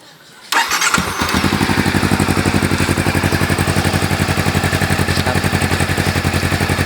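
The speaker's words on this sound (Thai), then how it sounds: "เราลองฟังเสียงท่อกันดูนะครับ" Honda CB500F motorcycle fitted with an aftermarket exhaust, starting up and then running loud and steady with a deep, rapid pulsing idle, close up, with no talking.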